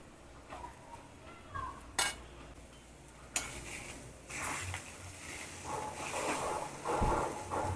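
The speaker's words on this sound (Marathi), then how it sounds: "हे वाटप आपण आता करून नीट भाजून घेऊया" Onion-coconut masala paste is roasted in a pan for spicy Saoji-style chicken, with a spoon clanking and scraping against the pan at irregular intervals over a soft sizzle.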